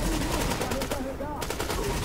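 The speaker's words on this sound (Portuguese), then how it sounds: "Tô tomando tiro aqui, não sei de onde." Automatic gunfire from the video game The Division crackles in rapid bursts over dense game noise and music, steady and loud throughout.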